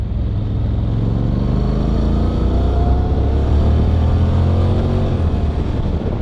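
A 2014 Honda CTX700 DCT motorcycle engine hums steadily while riding, a loud, continuous low drone with smooth, even tone and no talk.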